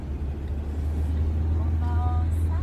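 A car accelerates on an expressway during a driving lesson, its engine giving a steady low rumble close by with road noise, while a voice speaks over it.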